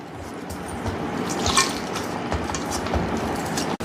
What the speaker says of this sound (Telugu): కొద్దిగా వాటర్ యాడ్ చేసుకోండి,